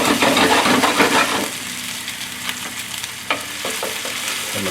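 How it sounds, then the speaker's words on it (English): Seaweed gets a quick stir in a pot with a burst of scraping and sizzling at first, then it settles into a quieter simmer broken by a few small clinks. "Give them a quick stir."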